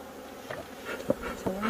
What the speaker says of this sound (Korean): 벌이 좀 너무 많이 나오면 작업하기가 어려우니까